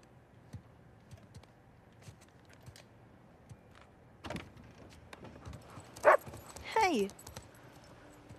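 A dog in the video game Uncharted 4 gives two short barks late in the scene. They sound fairly close, over quiet game ambience with soft footsteps and small clicks.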